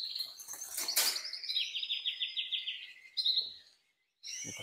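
Small agate canaries chirping and trilling up close, a rapid warbling run of notes followed by a short pause and another burst of song.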